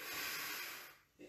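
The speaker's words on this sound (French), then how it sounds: "Inspirez." A single slow inhalation through the nose during a gentle exercise session, a soft airy breath that fades out, followed by a brief faint rustle.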